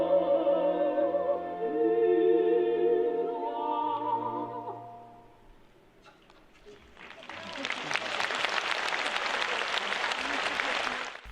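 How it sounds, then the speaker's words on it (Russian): Concert audience bursting into enthusiastic applause after a long held operatic tone from the stage; the clapping swells loud and dense, continuing steadily to the end. "Имена, которые в этот день произносили ведущие, вызывали бурные аплодисменты публики"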